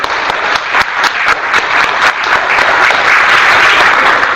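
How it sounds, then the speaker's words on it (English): An audience at a teachers' workshop claps hands loudly and continuously, with distinct nearby claps over a dense crowd wash that grows slightly fuller toward the end. "Stand here and then show them how to clap."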